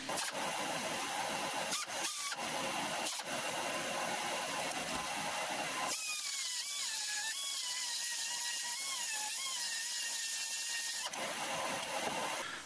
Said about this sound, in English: the correct tool for this job is going to be the pneumatic linisher